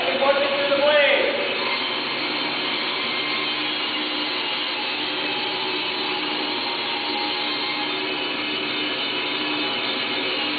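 A band saw runs with a steady loud mechanical whine as a board is pushed through the blade, a continuous drone with a brief rising burst near the start and a voice talking over it.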